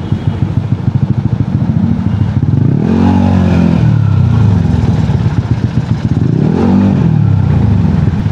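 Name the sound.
Yamaha Aerox scooter engine riding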